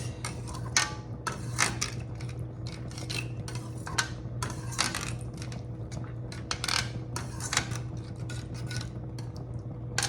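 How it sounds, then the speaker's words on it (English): A spoon stirs baked beans in a pot with rivets on the bottom, making steady irregular clinks and scrapes as it catches the rivets, close and fairly quiet over a low constant hum. "I have little rivets at the bottom of this pot so you can hear them when I'm stirring"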